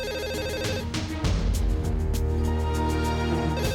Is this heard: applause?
no